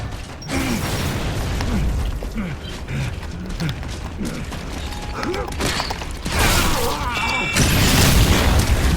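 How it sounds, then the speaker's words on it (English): A frag grenade thrown and exploding in the online shooter Gears of War 3 sits amid dense game audio: mechanical clanks and creaks, scattered effects and a heavy booming burst near the end, all loud and busy. "Throwing frag!"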